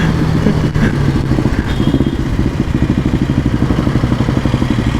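An old Royal Enfield Bullet motorcycle thumps along while riding, its engine loud and close with a steady rapid pulsing beat and some mechanical clatter, running continuously.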